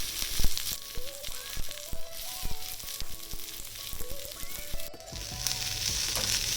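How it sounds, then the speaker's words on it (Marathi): Onion frying in oil in an iron kadhai, a steady close sizzle broken by clicks and scrapes of stirring, with no talking. "आता याच तेलात आपल्याला कांदा चांगला लाल करून घ्यायचा"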